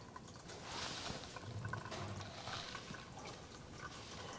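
Water draining out of the fuel tank of an old Volvo P1800 left parked in a field for 25 years, a steady close trickling and splashing that runs continuously without any talk.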